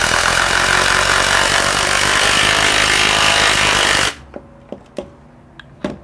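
A Klein 1/2-inch brushless compact impact wrench drives a lag bolt with a loud, continuous hammering rattle for about four seconds, then stops, followed by a few faint clicks and handling knocks.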